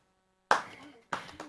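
Two sharp bursts of hand claps, loud and close, separated by a short pause, with no talking.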